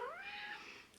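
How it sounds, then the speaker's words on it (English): A female cat named Star, in heat, lets out a single drawn-out caterwaul that rises and wavers, close by and fairly loud, alone with no talking. "if you hear the cat in the background caterwauling"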